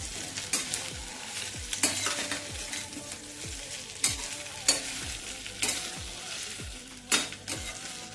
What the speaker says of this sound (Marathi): भेंडी छान अशी हलवून घेऊया